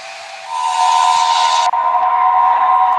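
A train whistle mod in a video game gives one long, loud, sustained steam-whistle blast with a hissy edge. Its tone shifts partway through and then holds steady to the end.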